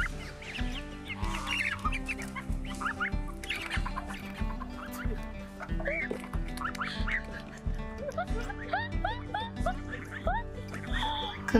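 Call ducks quack and chickens cluck in a squabble over feed, busy overlapping calls close by, repeated bursts throughout over a steady musical backing.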